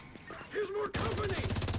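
Dense automatic gunfire from The Division 2 video game erupts abruptly and rattles on in rapid bursts, loud and close, after a brief stretch of quieter game sound with a faint tone.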